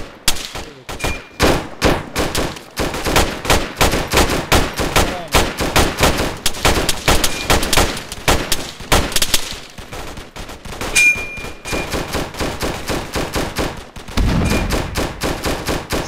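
Dense, continuous gunfire in Arma 3 (Iron Front) fills the whole stretch, with rapid automatic bursts and single shots overlapping at close range and a few metallic pings, without a break.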